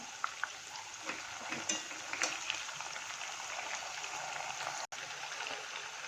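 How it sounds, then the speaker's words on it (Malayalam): Tipu Sultan chicken pieces frying in a pan, one side browned and then turned over; a continuous close sizzle with small pops and crackles runs throughout, with a brief gap near the end and no voices. "ഇത് നന്നായിട്ടൊന്ന് ഫ്രൈ ആവട്ടെ"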